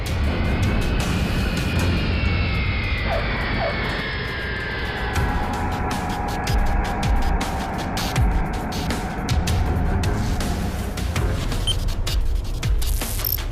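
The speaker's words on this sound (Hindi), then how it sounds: "ये एयरक्राफ्ट साउंड से 2 गुनी रफ्तार से ज्यादा से ट्रैवल कर सकते हैं।" Indian Air Force military jet aircraft flying past, a loud sustained roar with a sweeping whine that shifts in pitch as it passes overhead, steady and close throughout.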